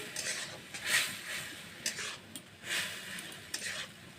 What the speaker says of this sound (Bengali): শুকনা লঙ্কার গুঁড়া এবার সবগুলো একসাথে মিশিয়ে নিচ্ছি